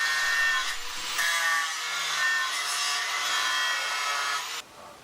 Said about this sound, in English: So I cleaned down all those welds with the flat wheel